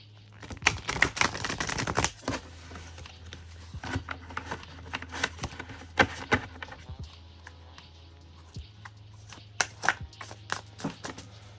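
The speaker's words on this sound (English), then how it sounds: "Let me shuffle first, don't mind me." Rapid riffling clicks and patters of a deck of tarot-style reading cards being shuffled, in repeated bursts with short pauses, close and fairly quiet.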